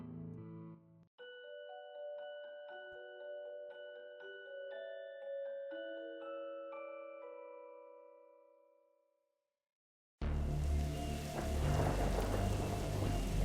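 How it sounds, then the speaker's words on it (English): Chiming melodic tones give way to a sudden burst of heavy rain with rumbling thunder, a dense close downpour over the library in the pixel horror game The Darkside Detective, with no talk. "He must have seen the strange storm gathering over it."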